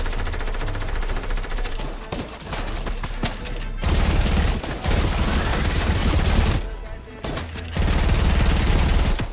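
SMG fire from a Fortnite match rattles in long, loud automatic bursts that nearly fill the whole stretch, with brief gaps between volleys.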